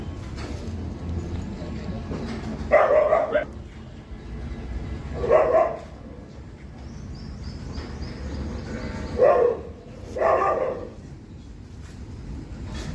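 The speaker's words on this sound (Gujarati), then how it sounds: "આ જે પાછળ દેખાય છે એ અપંગ કૂતરાઓનું ઘર છે આ છે અપંગ કૂતરાઓ" Several separate dog barks ring out at intervals at a shelter for disabled dogs, over a steady outdoor background hum, with a faint voice briefly heard.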